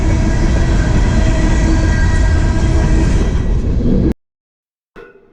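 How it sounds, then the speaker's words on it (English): A train rolls past a railroad crossing in Thayer, West Virginia, with a loud, dense rumble and clatter of cars that cuts off abruptly, followed by a short stretch of silence and a faint sound afterward. "So the train has finally passed, which is nice."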